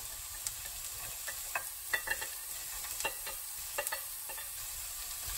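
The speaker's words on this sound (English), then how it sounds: "Fry the carrots for a minute before you add the leeks." Carrots fry in a pan for veggie rolls, giving a steady close sizzle with scattered crackles and pops throughout, with no one speaking.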